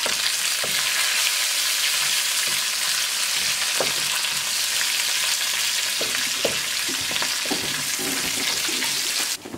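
Dried chili and spices sizzle loudly in hot oil as they are stirred in for sambar, a steady close crackle punctuated by scattered taps and scrapes of the spoon, with no talking.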